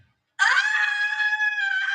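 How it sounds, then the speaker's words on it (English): People scream in a film clip: after a brief silence, a loud, sustained, shrill scream erupts and holds steadily, close and unaccompanied. "Why do they keep screaming?"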